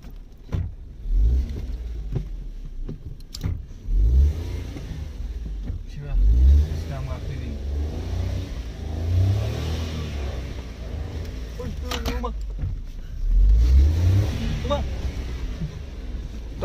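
A Maruti Suzuki Alto K10 crawls over a deeply potholed, rough hill road, its small engine revving in repeated bursts as it struggles to climb through, with rumbling and knocks from the uneven ground throughout.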